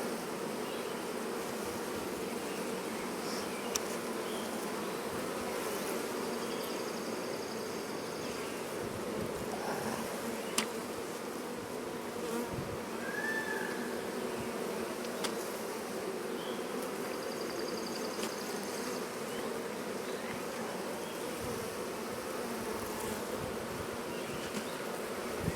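Honey bees buzzing in a cat house, a steady close swarm hum that continues without a break and sometimes has a louder pass.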